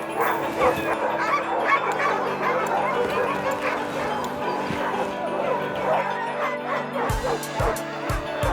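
Sled dogs at a dog sled trip outfit barking, yipping and whimpering in an excited chorus, dense and continuous, with a few sharper barks near the end.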